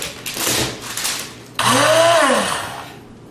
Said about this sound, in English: what better way to turn a solid into a liquid than using a blender?